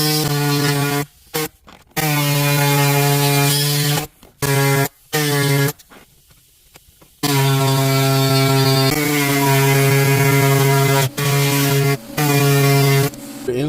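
A power tool shaves plastic ridges off a radio dash kit for a 2003 Ford Ranger, its motor whining loud and close in several bursts with short pauses between.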